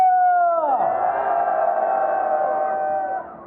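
A crowd roars and cheers at the opening of the 16th candlelight rally in Gwangju. The loud, sustained shouting swells into a dense wall of voices and holds for about three seconds before fading.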